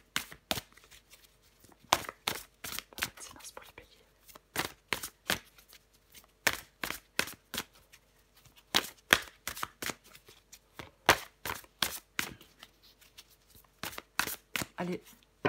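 Tarot cards are shuffled by hand in repeated crisp riffling bursts, each lasting about half a second, in an irregular rhythm over a long stretch. The sound is close and clear, with no talk.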